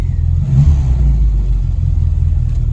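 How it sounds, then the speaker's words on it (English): A Mini's engine fires up from a floor-mounted starter button and revs hard, a loud, close, continuous rumbling roar with a brief rise in pitch early on and no talking. "So to start it, it's literally on with the ignition. Press the floor button. Woo! We're away."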